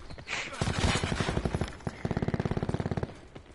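Automatic gunfire in the shooter game Black Ops 4, a close rapid burst followed by a second quick stream of evenly spaced shots, loud and rattling, with a player's voice briefly audible alongside.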